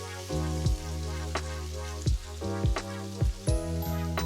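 Cloves, cinnamon, cardamom and onions fry in a pan with a steady sizzle. Several louder clanks and scrapes of a utensil against the pan break in at intervals, close by and with no talk.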